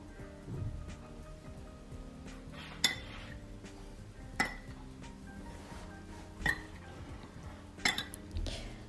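A dish of seasoning with pepper, garlic powder and oregano being stirred, heard as quiet scattered clinks of a utensil against the bowl at irregular intervals over soft background noise.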